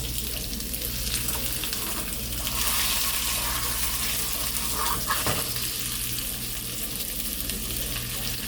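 Salmon steaks fry in a pan with a steady, continuous sizzle and crackle that stays loud and even throughout, with no voices over it.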